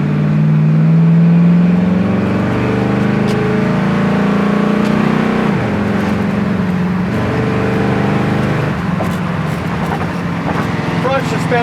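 A 1974 Dodge Challenger, shifted into drive and rolling, gives a steady, loud engine drone with a smooth gear shift partway through and continuous road and motor noise.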